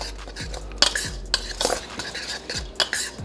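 Garlic hatchery dough bait for stocked trout is mixed in a bowl with a utensil, giving repeated close scraping and clinking strokes in an uneven rhythm, with no talking.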